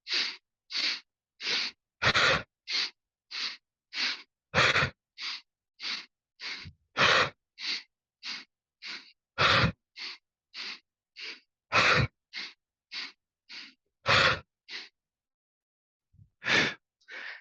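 Rhythmic breathing during a hatha yoga class, with steady short inhales and exhales in an even pattern and a few louder, fuller breaths among them, close and clear with no speech.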